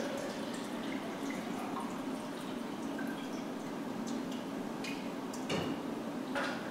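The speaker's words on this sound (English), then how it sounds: "Carefully pull your film out and let it drip over the sink a little bit." Water drips from freshly developed film, rinsed in photo flow and held over a sink. Faint, sparse taps fall at irregular intervals over a steady background hiss.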